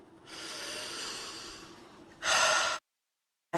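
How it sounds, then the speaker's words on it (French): Slow, calm breathing during a relaxation exercise: a long, soft, airy breath followed by a brief, stronger rush of air, then silence. No voice. "Et faites à présent 3 respirations tranquilles"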